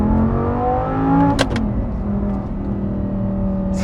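A 2010 Audi R8 V10 with the stock exhaust and gated manual revs up, its engine note rising in pitch before a sharp shift and a steady drone, loud and close with no talk.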